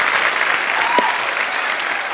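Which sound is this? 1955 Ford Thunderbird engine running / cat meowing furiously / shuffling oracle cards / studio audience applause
studio audience applause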